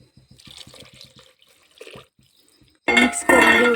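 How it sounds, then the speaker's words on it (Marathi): Water pours from a vessel into seasoned rice for masale bhaat, a sudden loud splashing stream that follows quiet ticking and faint clinks. "आता आपण त्याच्यात पाणी टाकूया."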